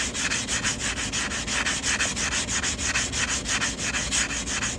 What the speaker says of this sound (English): sand this cut edge. You can see it's kind of rough from stretching that much. We're going to make that nice and smooth. I just use a nail file block.